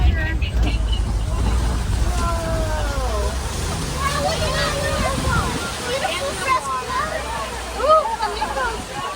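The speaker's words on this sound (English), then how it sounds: "Oh, we're going through some water." Safari ride vehicle at Disney's Animal Kingdom Kilimanjaro Safaris splashing through water, a steady low rumble and slosh lasting several seconds beneath a guide's narration and crowd chatter, with bird calls scattered over it.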